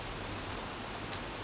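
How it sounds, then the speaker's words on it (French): Steady rain falling outdoors, a dense continuous hiss of drops at even level throughout, with no voices over it. "Écoutez la pluie là, est-ce que vous entendez?"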